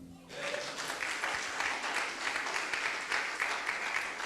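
A church congregation applauds during a worship service, a steady wash of many hands clapping at moderate distance that rises quickly and holds for several seconds.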